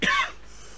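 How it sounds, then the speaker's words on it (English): A single short, harsh cough from a man, close and abrupt, then quiet. "I didn't even dab, I'm coughing."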